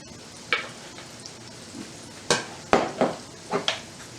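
Green tomatoes and eggplant frying in a pan, with a steady sizzle broken by several sharp clatters and scrapes of utensils against the cookware at irregular intervals, close by.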